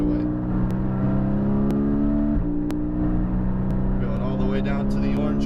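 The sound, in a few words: race car accelerating down the straightaway on a track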